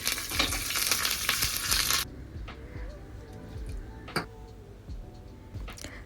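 Dried chillies, mustard seeds, cumin, urad dal and curry leaves tempering in hot oil, loud dense sizzling for two seconds that drops to softer crackles and scattered pops and clicks.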